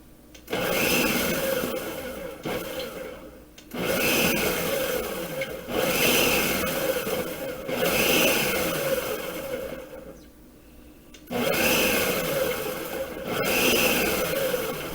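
A kitchen blender pulses in short bursts to crack open seeds for a pickle brine, loud grinding whirs separated by brief pauses, close by with no talking.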